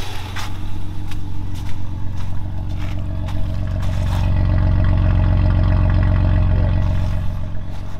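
A 2.6 V6 engine in an Audi 80 B4 runs close by, a steady low idle with light mechanical clatter that swells into a firmer hum midway and then settles again.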